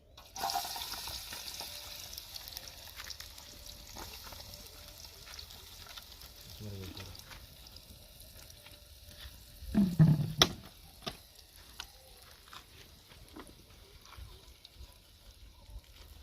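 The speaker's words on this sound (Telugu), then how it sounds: "వేగిన నూనెలో ఉల్లిపాయలు కాస్త" Chopped onions frying in hot oil in a home kitchen give a soft, steady sizzle, fairly faint, with a brief louder stir or clatter partway through.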